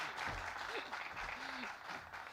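An audience at an award ceremony claps in a brief, dense burst of applause, close and steady throughout, with a few faint voices under it.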